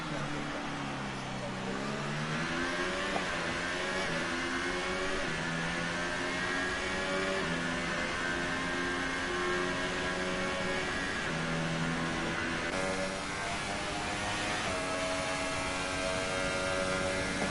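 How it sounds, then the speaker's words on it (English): A racing car engine in a video game revs hard from an onboard view around the Baku street circuit, its rising and falling harmonic whine continuous throughout while someone talks over it. "He's fully revving the engine and just seems to be carrying more sort of corner speeds."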